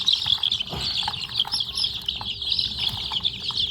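Many Thai native chicks peep together in a continuous high, busy chorus, close by, with a brief louder rustle or flap near the start and no talk.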